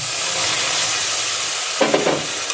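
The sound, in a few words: stirring melted sugar and mango pulp in a wok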